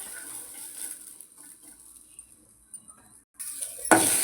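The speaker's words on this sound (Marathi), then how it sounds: "आता हे भाजून झाले, त्याला आता काढून घेऊ।" Fresh green pigeon pea pods roast in a pan with a faint, continuous sizzle and light stirring scrapes, then a louder clatter of utensils against the pan at the end.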